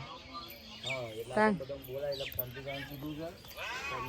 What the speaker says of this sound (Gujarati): હા એ ચકલા